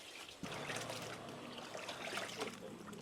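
Water is poured and trickles while fish is washed for a Salem-style fish curry, a soft, continuous splashing and dribbling heard fairly quietly.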